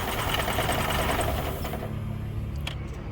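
Car engine shaking violently from a bad intake air temperature sensor, a dense, rough running noise with steady rattling vibration that eases slightly toward the end.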